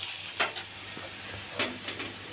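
Garlic and onion sizzle as they fry until browned in a pot for chicken curry, with a steady hiss and a few louder stirring scrapes.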